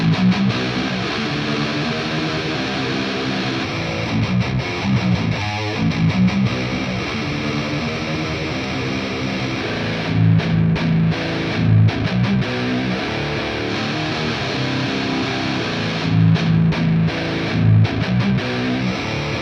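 Distorted electric guitar playing continuously with steady chords and riffs, loud and full, recorded in turn through a 57, an Austrian and an AEA microphone, the tone shifting slightly partway through.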